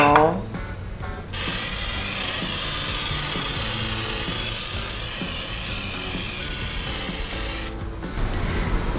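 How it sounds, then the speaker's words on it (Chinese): Cooking oil is sprayed onto a vegan luffa and shimeji mushroom dish sitting in a bamboo steamer over boiling water: a steady, loud hiss lasting about six seconds, starting and stopping abruptly. "这时候可以喷一点油"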